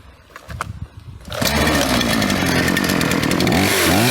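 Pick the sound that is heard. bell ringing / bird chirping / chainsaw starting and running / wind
chainsaw starting and running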